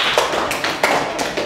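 A classroom group claps for the second team, a quick burst of applause with rhythmic, closely spaced claps that stays loud and steady throughout.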